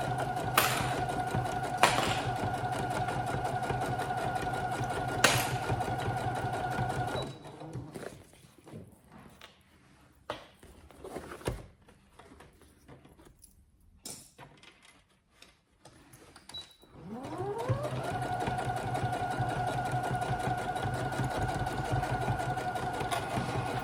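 A sewing machine stitches a seam on a shoulder bag in steady whirring runs, then stops for a quiet stretch of handling and small clicks before the motor spins back up and runs on steadily.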